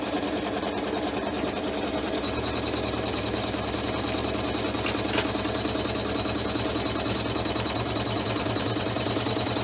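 An embroidery machine stitches a placement outline for quilt batting on a pouch, a steady, fast mechanical whir and rhythmic needle pulsing running continuously and close, with no voices.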